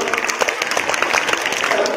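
A classroom group claps for the Ramanujan team during a seventh-grade maths quiz, a brief burst of scattered, fairly loud clapping with voices mixed in.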